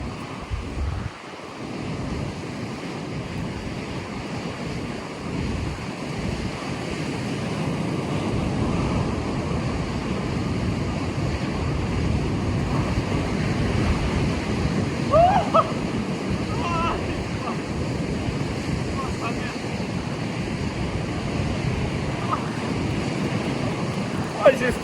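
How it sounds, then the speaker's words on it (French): Strong wind buffets the microphone with a constant roar over crashing surf on an Australian beach during a storm, loud and continuous throughout. "mes affaires elles s'envolent parce qu'il y a tellement de vent"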